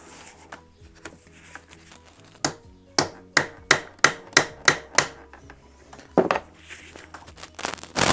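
A series of sharp hammer blows on metal, roughly evenly spaced, loud and close, followed by a cluster of quicker clanks.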